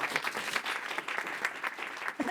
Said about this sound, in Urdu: تالیاں بجائیے بھائی۔